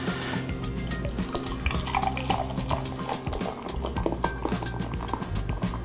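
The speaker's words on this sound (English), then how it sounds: "Now let's grab your favorite beer and add 12 ounces." Twelve ounces of beer pour into a bowl of batter for deep-fried halibut, a busy close splashing and glugging stream with small clinks and drips throughout.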